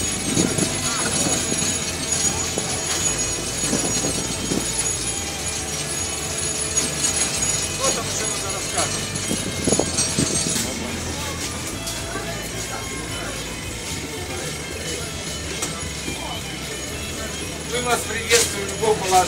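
Inside a railway carriage, the train rumbles along with a steady low roll and rhythmic clatter, while people talk nearby over the noise.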